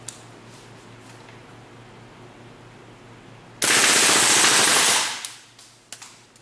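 A WE SCAR steel open-bolt gas blowback airsoft rifle fires a single full-auto burst of about a second and a half, a loud rapid rattling stream that cuts off sharply and leaves a few faint clicks after quiet handling sounds.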